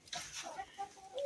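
Hens cluck in short bursts inside laying boxes near a garden coop, a few close, fairly loud calls rising toward the end.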